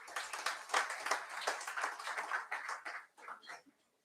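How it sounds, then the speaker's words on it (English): A round of applause at an MBA induction event rises as a dense, steady patter of many hands clapping in a hall, then thins to a few last claps and stops. "I must appeal everyone to have a huge round of applause for you itself"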